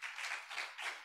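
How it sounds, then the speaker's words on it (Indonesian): Church congregation clapping at a Sunday worship service in Jakarta, soft and brief, a quiet wash of hands that swells and dips in short waves. "Yang setuju berikan tepuk tangan bagi dia."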